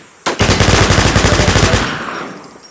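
A rapid burst of automatic gunfire from The War Z, about fifteen close, loud shots in an even fast rhythm lasting around a second and a half, then a short echoing tail.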